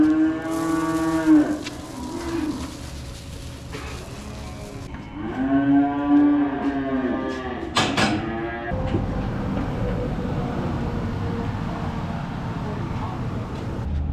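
Cattle in the youngest calf pens on a dairy farm moo loudly and repeatedly at close range, with long drawn-out calls separated by brief pauses over steady barn background noise.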